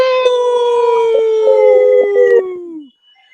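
A long sustained human howl imitating a wolf, loud and near, holds one rising-then-falling pitch for almost three seconds with brief bursts of extra voices joining in before it cuts off, at a wrestling-fan podcast interview.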